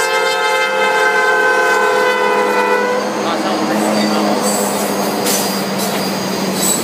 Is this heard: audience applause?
no